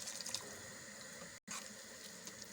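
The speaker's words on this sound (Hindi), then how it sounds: "सो हम इसमें पानी डाल देंगे इतना कि इसमें वेजिटेबल जो है वो डिप हो जाए।" Water is poured into a pot of rice and vegetables for pulao, a steady close splashing flow with a brief cut partway through, and no talking.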